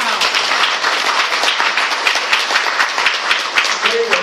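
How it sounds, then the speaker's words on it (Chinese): An audience breaks into steady applause for an honored adviser, a thick, continuous patter of many hands with distinct individual claps, fairly close and loud, and some voices mixed in. "要不要掌声？"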